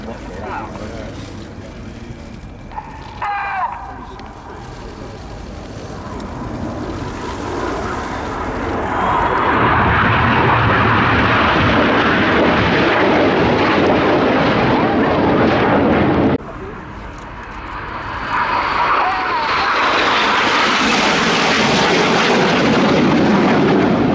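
RAF Red Arrows jets flying aerobatic manoeuvres at the Royal International Air Tattoo 2016 air show. Loud roaring jet noise swells and sweeps past under a commentator's voice.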